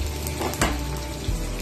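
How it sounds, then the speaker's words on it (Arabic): Liver fries in hot oil in a pan with a loud, steady sizzle close up, and a utensil stirs or scrapes once or twice. "ونخلوها تقلى لنا مليح"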